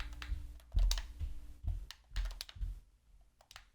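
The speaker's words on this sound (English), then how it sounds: "This is me speed typing at the moment." Fast typing on a computer keyboard: soft, close key clicks in quick irregular bursts with short pauses, quiet and alone.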